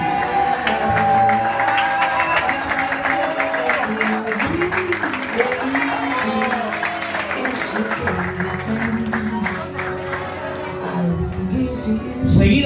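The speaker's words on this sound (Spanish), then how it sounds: "pido un fuerte aplauso para Guillermo Esquivel y la señora Margarit" Wedding guests applaud at a wedding celebration, a dense, steady wash of clapping that runs the whole length, mixed with crowd voices and tonal background sound.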